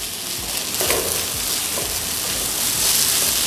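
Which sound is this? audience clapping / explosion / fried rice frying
fried rice frying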